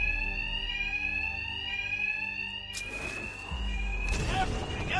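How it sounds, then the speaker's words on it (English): A loud, steady electronic alarm rings continuously in the Batman Arkham Knight video game, its shrill tone holding throughout, while low thumps and bursts of game noise break in partway through. "Two-Face's thugs won't hear me over the alarm."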